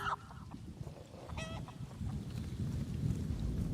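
Chickens in The Elder Scrolls Online give a brief squawking cluck partway through, set against a steady low rumbling game ambience with no voices.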